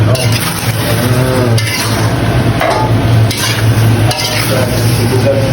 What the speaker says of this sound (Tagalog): Stir fry. Stir fried beef.